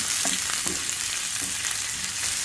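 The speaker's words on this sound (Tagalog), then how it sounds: "So nagsama ko ng bawang at sibuyas na." Garlic and onion sauté in a pan for ginataang langka, giving a steady, close hiss of frying broken by occasional stirring scrapes and light knocks, with no talking.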